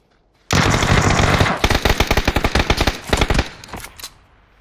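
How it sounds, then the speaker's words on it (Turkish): Automatic gunfire in PUBG on the Sanhok map, a sustained loud burst followed by a rapid, uneven string of shots that thin out and fade. "Bayağı vurdum ona."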